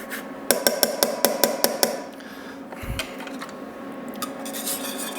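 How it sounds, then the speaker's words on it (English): Orange zest being scraped on a grater, a quick run of about eight sharp rasping strokes in a regular rhythm, then quieter kitchen handling sounds. "We could zest this whole orange, but I mean, I don't want to do the whole thing."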